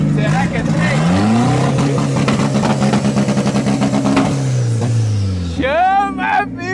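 A car engine is held against the rev limiter, producing a loud, close, rapidly pulsing buzz that rises, holds and then drops away, with rising and falling revs near the end.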